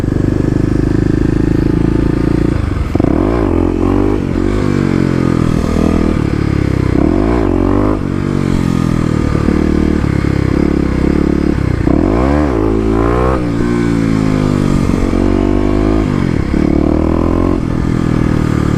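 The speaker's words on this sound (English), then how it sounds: "Let's move to first gear, see if we can't get it to come up a bit." A Kawasaki KLX250 with stage 1 mods revs hard in first gear for wheelies, the engine loud and close, surging and falling repeatedly with rising and dropping pitch sweeps and some clatter between pulls.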